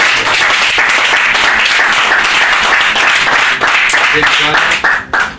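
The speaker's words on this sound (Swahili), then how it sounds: "Hebu pigeni Bwana Yesu makofi" Congregation clapping in a church service, a dense, steady wash of applause with talk mixed in, fading toward the end.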